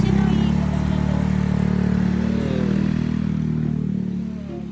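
A Yamaha Mio scooter engine idles steadily with a low rumbling throb, then fades slightly toward the end; no talking.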